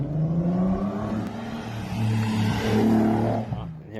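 A VW MK4 R32 VR6 with a resonated 2.5-inch Milltek catback exhaust revs close by, its deep droning note climbing and falling over a few seconds before settling back.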